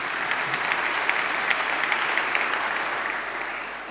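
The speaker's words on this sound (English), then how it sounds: "So applause to JetBrains for fixing bugs." Steady audience applause at a KotlinConf 2018 programming-conference talk, a dense even wash of many hands clapping that runs loud and unbroken for the whole few seconds, with no voices over it.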